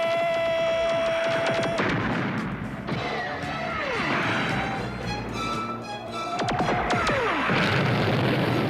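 Cartoon artillery barrage in a G.I. Joe battle scene, with repeated booming blasts and descending whistling shells streaking down, layered with a dense chaotic crash of explosions and sustained rumble throughout.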